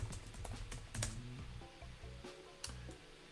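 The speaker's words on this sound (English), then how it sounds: "Let's have some fun with a Korean keyboard." Someone types Korean on a computer keyboard, producing a quick, uneven run of soft key clicks, close and fairly quiet, with brief gaps between bursts.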